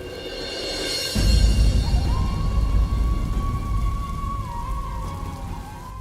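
Heavy rain pouring steadily on surfaces, a dense close hiss that swells louder after a second, with a long thin whistling tone running through it.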